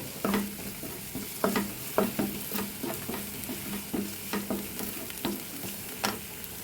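Green chillies sauté in a hot pan with a soft, steady sizzle. A spoon stirs and scrapes at an irregular rhythm, giving repeated close clinks and scrapes.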